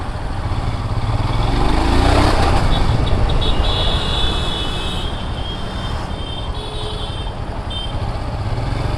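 A Royal Enfield Hunter 350 motorcycle being ridden, its engine a rough, continuous rumble mixed with wind rush and road noise, swelling briefly early on before holding steady.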